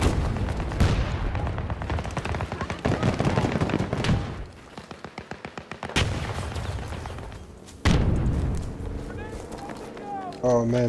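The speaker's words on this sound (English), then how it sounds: "Oh man, they're shooting us" Enemy gunfire in a video game: bursts of rapid shots crackle loudly, with brief pauses between volleys and sharp single reports, over a busy background of game noise.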